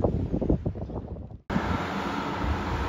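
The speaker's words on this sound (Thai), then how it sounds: "ลมแรงมากครับวันนี้" Strong wind blowing at a railway station, buffeting a microphone as a rough, roaring rush that suddenly drops out for a moment, then returns as a steady, louder roar.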